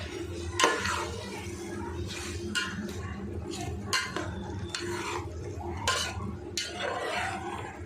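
Chicken marinated in yogurt being stirred in a pot for chicken dum biryani with broken rice, a steady run of close scraping spoon-on-metal strokes and light clinks over a low background hum.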